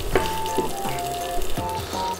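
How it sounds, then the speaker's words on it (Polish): Sausages fry in a pan with a moderate sizzle and pops, close by, while a few clinks and scrapes of handling break through. "i obsmażamy z obu stron na złoty kolor"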